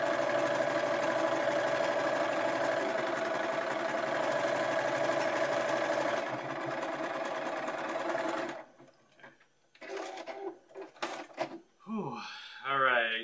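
A sewing machine hems the bottom of a long sleeve, its motor humming in a long, even run for about eight seconds before stopping, followed by scattered handling sounds and a voice speaking.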